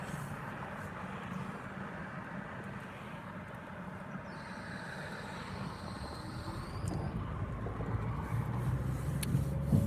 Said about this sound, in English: Morning rush traffic is the worst.